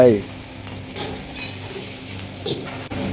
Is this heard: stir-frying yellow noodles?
yes